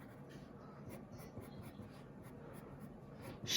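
A pencil drawing shading lines on paper to render hair, soft close scratchy strokes repeating in a quick irregular rhythm, faint and dry throughout.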